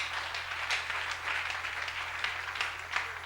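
A church congregation applauds steadily for several seconds, a dense wash of clapping over a low background hum.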